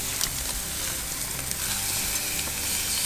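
Meat sizzles over an open fire on a grill, a dense, steady crackling hiss that stays loud and close throughout with no voices.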